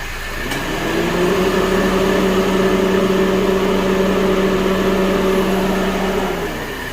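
A car's radiator fan spinning up and running steadily during a thermostat replacement and cooling-system burp, a loud, constant whirring hum with a mechanical drone that holds evenly for several seconds.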